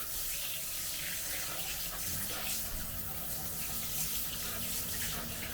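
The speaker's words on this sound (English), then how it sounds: "Let me wash my hands off." A kitchen tap runs steadily while hands are washed after shaping Hull patties, giving a constant close splashing rush into the sink with no talking.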